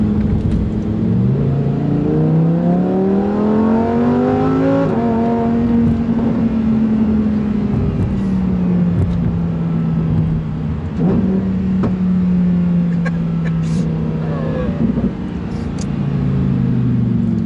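A Lamborghini Huracan Performante engine revs up loudly, drops briefly as gears change, then climbs and holds a steady roar, heard up close from inside.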